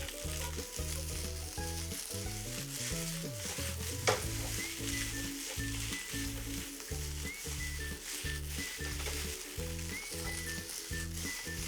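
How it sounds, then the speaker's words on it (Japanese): Salmon and rice stir-fried with melted butter in a pan give a steady close sizzle, broken by rhythmic scraping and stirring strokes, with a single louder clatter partway through. "全体に鮭とご飯がこう合わさったらですね、ここでバターを落とします。 で、バターをなじませます。"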